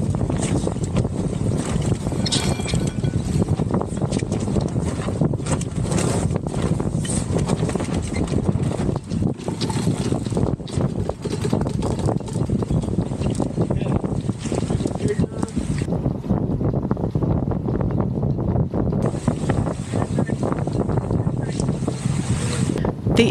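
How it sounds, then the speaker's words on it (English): Strong wind buffets a sailboat leaving Norfolk in a shipping channel, its electric motor failed, roaring steadily into the microphone with gusty bursts over the sound of water around the hull for the whole stretch. "the wind starts blowing off the bow, and the single 15 kilowatt motor is not strong enough for these winds"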